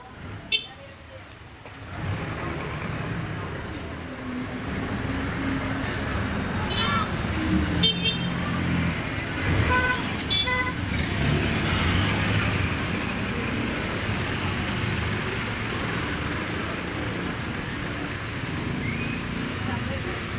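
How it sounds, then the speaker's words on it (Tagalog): Street traffic beside the Malabon Fish Market, with vehicles passing continuously and a steady roadway rumble, faint horn toots and market bustle mixed in, heard at moderate distance with no clear voices. "baka masagi tayo ng mga dumaraan dito na sasakyan"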